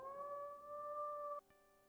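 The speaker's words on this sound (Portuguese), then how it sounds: "Vamos uivar uma vez." A wolf in the video game WolfQuest gives a single sustained, tonal howl with steady pitch, clear and alone, then it breaks off abruptly and a faint musical tone lingers.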